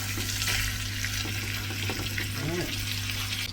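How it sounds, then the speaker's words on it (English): Beef browning in a pot for beef stew, with a loud steady close sizzle and fizz that carries on evenly, a faint voice murmuring briefly in the background. "What we want to do right now is we want to brown the beef."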